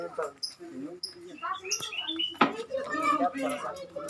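Caged songbirds in a private home collection chirp and whistle in bright, varied bursts close by, while people talk over the birdsong.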